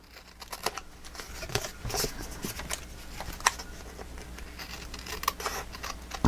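Scissors trim white paper bits off a mini album, giving scattered soft snips and light paper rustles up close, fairly faint and irregular, with no voice.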